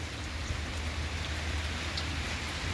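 Steady rain falling in a village in central Ukraine, an even, unbroken hiss with a low rumble beneath, moderately loud and constant with no voices.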